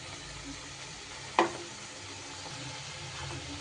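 Banana stem cooking in a pan with ground mustard paste and green chilli gives a soft, steady sizzle, broken by one sharp clatter of a utensil stirring partway through.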